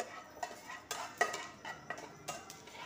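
Whole garam masala and a bay leaf drop into melted ghee in a pan, making a quick series of light taps, clatters and scrapes at an uneven rhythm, close and fairly quiet.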